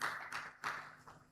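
A few scattered claps from an audience at a business forum, faint and uneven, forming short bursts rather than sustained applause.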